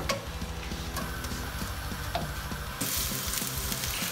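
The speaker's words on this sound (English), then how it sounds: "A little bit of oil. Let's put the onion in." Onion frying in oil in a pan: steady, close crackling sizzle throughout with small pops, growing slightly louder and brighter toward the end, no talk.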